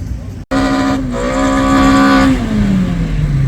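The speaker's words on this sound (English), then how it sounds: "Corolla warming up the tires." A Toyota Corolla race car warms its tires at a racing event with a loud, close, sustained high-revving engine roar, briefly cut off near the start, then holding steady before the pitch slowly sinks.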